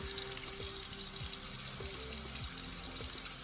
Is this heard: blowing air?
no